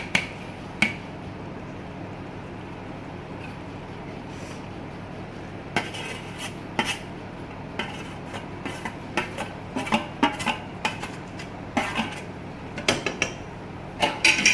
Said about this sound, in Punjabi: ਕਸੂਰੀ ਮੇਥੀ ਪਾ ਕੇ ਹੁਣ ਆਪਾਂ ਇਹਨੂੰ ਮਿਕਸ ਕਰ ਲਾਂਗੇ